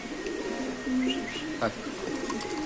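Giribaz pigeons coo softly nearby in short low calls, with faint background voices and rustling.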